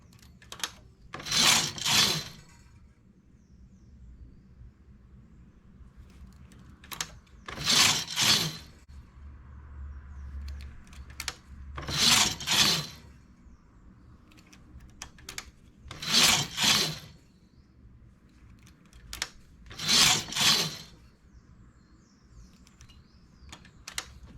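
A knitting machine's carriage makes a one-piece balaclava, sweeping across the needle bed in six loud, rasping passes at a steady pace about four seconds apart, with quiet pauses between and no voices.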